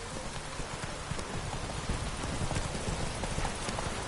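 Roach, Geralt's horse in The Witcher 3, gallops with a steady drumming of hooves, close and continuous under a hiss like rain.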